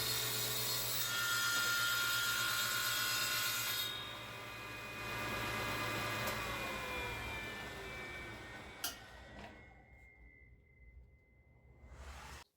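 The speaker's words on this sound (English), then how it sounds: "I need to trim off the bottom so that I've got a nice square bottom for the charcuterie board" Hand sawing through wood to square off the bottom of a charcuterie board, a steady rasping stroke that runs strongly for several seconds, then tapers off into quieter scraping before stopping.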